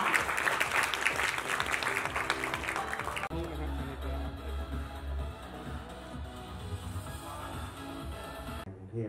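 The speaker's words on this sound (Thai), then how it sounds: "ต้องขอเสียงปรบมือให้กับทั้ง5ท่าน" Applause for five sponsors on stage at a Bangkok Bank golf tournament ceremony, a burst of clapping in the first few seconds that gives way to quieter room sound and a low hum, moderately distant.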